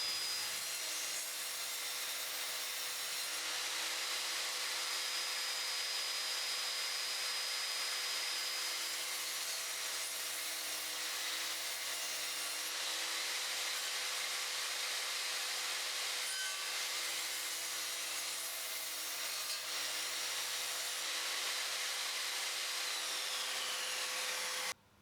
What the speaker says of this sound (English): I'll now give you a demonstration of this machine cross-cutting some pieces of decking.